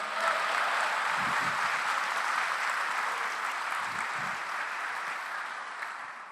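Sustained applause from a church congregation forms a thick, even roar of many hands clapping at once, holding steady before easing off slightly toward the end.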